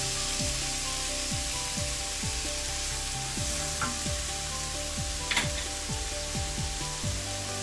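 String hopper kottu sizzles and fries in a pan with soy sauce, a steady loud crackle under repeated scraping, chopping-like spatula strokes that clatter against the metal in a regular rhythm, with no talking.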